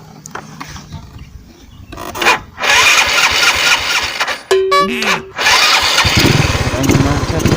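A motorcycle engine cranks and fires into a loud, close rev in an outdoor street-racing scene, settling into a rough idle, with a honk or tonal beep briefly cutting through midway.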